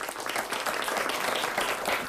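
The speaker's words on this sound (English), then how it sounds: "give Alan a big round of applause" At a high school quiz bowl match, the crowd gives a departing participant a brief, loud burst of dense clapping that stays steady throughout.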